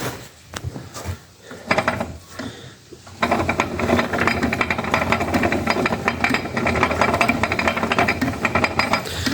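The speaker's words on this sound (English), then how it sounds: "I think that rattling is just that idler in there." A John Deere 2850 tractor engine, partly stripped with the sump off, runs with a steady loud mechanical rattle from its idler, preceded by a few seconds of clattering handling noise.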